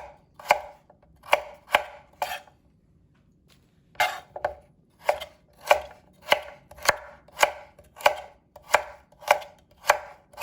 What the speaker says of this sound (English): When it gets really thick, I'm going to cut it in half and kind of mimic that same deal without cutting myself.